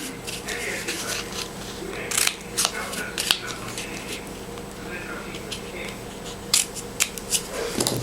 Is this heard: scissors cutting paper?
yes